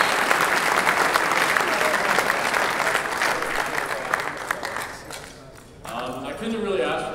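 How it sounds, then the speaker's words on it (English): A crowd applauds lacrosse alumni at a 2014 Limestone men's national championship ring ceremony, with dense steady clapping for about five seconds that fades out before voices take over at the end. "I'd like to just have another round of applause for all the alumni that came out tonight"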